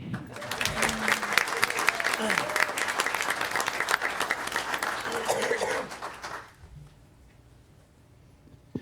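Audience applause fills a school board meeting room in Alvin ISD, a dense, steady clatter of many hands lasting about six seconds before cutting off abruptly into quiet room tone.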